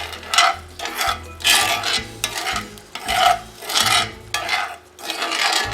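A spoon stirs curry shrimp in a pot, rhythmic scraping and rubbing strokes roughly every half second, close and steady with a faint sizzle beneath.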